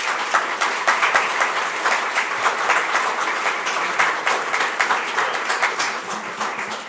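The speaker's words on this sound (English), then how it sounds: "I ask you to give them a round of applause" An audience at a community candidate forum gives a sustained round of applause, many hands clapping in a dense, continuous wash with a few louder individual claps standing out, tapering slightly toward the end.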